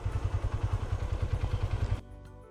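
Suzuki GR 150 motorcycle engine braking on a downhill mountain road, a steady pulsing low drone with rhythmic throbbing that cuts off abruptly near the end, leaving a quieter idle-like hum.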